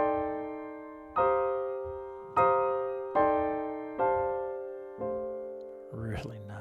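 A dominant seventh arpeggio played with both hands on a keyboard: five separate sustained, ringing notes struck about a second apart, each decaying slowly, then a brief clatter at the end.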